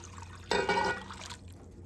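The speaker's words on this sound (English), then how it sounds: "you put your broth in with your fish and onions" Broth pours into a pot holding fish and onions for chowder, a brief, soft liquid splash lasting under a second against a quiet background.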